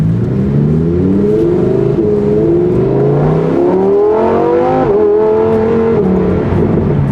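Stock Lamborghini Huracán Tecnica engine droning and revving steadily while driving over a rough road, a loud, continuous tone rising and falling in pitch with no voices.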